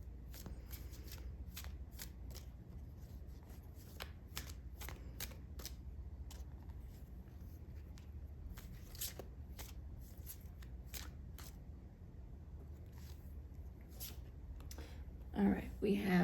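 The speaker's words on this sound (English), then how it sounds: "let's get some initial cards out on the table." Playing cards being shuffled and dealt onto a table, a continuous flutter of rapid riffles and snaps with sharp slaps scattered throughout, close and fairly quiet over a low hum, with some handling noise near the end.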